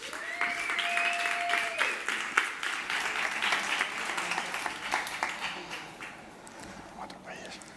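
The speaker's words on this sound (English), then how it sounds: "Big applause to Sergio from Star Robotics." Audience clapping for a speaker taking the stage at an innovation award event, moderate applause fading toward the end, with a brief tonal beep early on and faint talk underneath.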